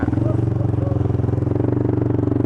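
An ATV engine chugs and revs steadily through deep, muddy trail water on the Seelong Trail in Johor, a loud, close, pulsing drone with clattering throughout.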